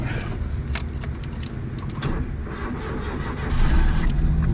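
A Suzuki Alto car's key rattles in the ignition before the engine turns over, then a steady, loud idle rumbles close by.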